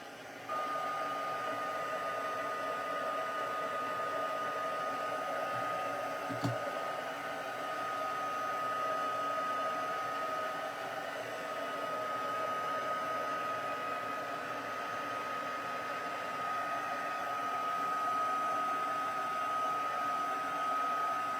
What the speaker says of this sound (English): I'm going to get my blow dryer out here